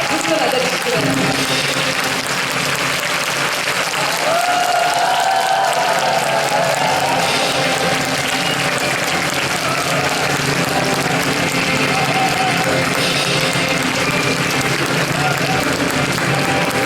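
An audience applauds to welcome Gyeongsangnam-do education superintendent Park Jong-hoon at a 2017 Happy School concert, a steady wash of clapping lasting throughout with voices talking over it.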